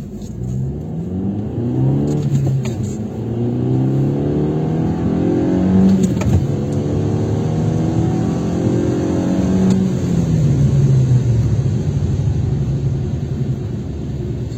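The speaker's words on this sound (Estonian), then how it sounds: "Ühe kiirenduse, see on selle auto üks tugevamaid külgi, näitan, kuidas ta seda teeb." A car accelerates hard through several gears, each engine note climbing then dropping at the shifts, loud and close with a deep rumble throughout.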